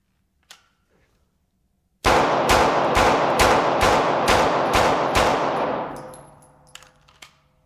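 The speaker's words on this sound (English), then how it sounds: "I'm actually going to try to just go ahead and rapid fire, spread it out around the vest more realistically" Rapid gunfire hits a civilian body armor vest, about eight loud, evenly spaced shots in a quick string with ringing echoes that trail off, after a faint click beforehand.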